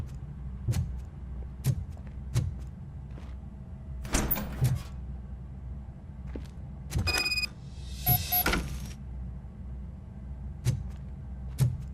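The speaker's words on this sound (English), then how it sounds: "Now let me get that door open for you." A door opening in the game Robocop Rogue City: a few mechanical clunks and a hissing slide stand out amid regular heavy thuds and a low ambient hum.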